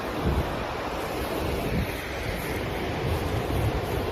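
Continuous roar of Kalandula Falls in Angola, a steady broadband wash of falling water mixed with gusting wind buffeting the microphone, loud and unbroken throughout with no voices.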